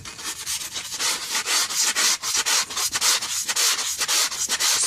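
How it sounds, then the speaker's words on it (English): Sandpaper scours the brake rotors of a Mercedes SLK or CLK by hand, making close, steady back-and-forth rasping strokes in a quick rhythm, with no voices. "I take some sandpaper and I just"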